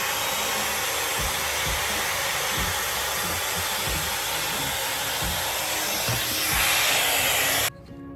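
A handheld hot air brush styler blows a steady, close, loud rush of air with faint rhythmic thumps underneath, then shuts off abruptly near the end.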